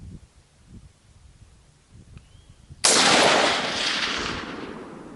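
A single loud rifle shot cracks out on an overland shooting course, sharp and near, followed by a long rolling echo that slowly fades.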